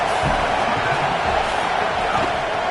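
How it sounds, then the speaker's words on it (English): A college football stadium crowd at Oregon vs Penn State roars as the offense nears the red zone. The dense, steady wash of crowd noise stays loud throughout, with no clear breaks. "This crowd trying to make life miserable for this offense."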